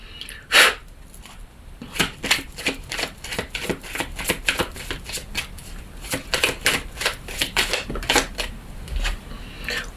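Lenormand oracle cards are shuffled and cut by hand, giving a dense run of close, crisp riffling flicks and slaps that rise and fall in irregular bursts for about ten seconds.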